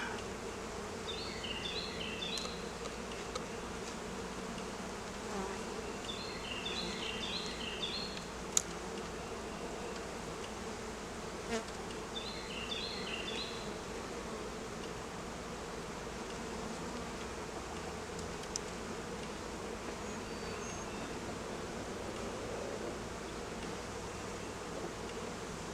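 Honeybees buzz in a steady, dense drone while a hive's brood box is opened and its frames are inspected, a continuous hum with no talk, broken only by a few faint clicks.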